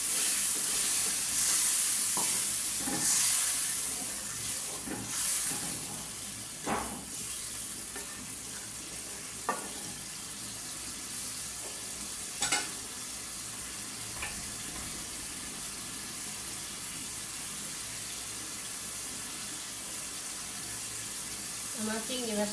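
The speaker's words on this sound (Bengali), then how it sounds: "একটু পানি দিয়ে কষায় নিই চিংড়ি মাছগুলো।" Prawns cooking down in fried spices with a splash of water, giving a soft continuous sizzle with occasional stirring scrapes and clinks, heard close and alone for a long stretch.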